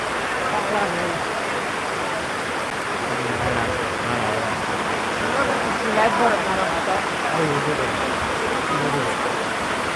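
Steady rain falls across an outdoor cattle market in Chattogram, a continuous loud hiss that fills the whole stretch, with murmuring voices and crowd noise faintly beneath it.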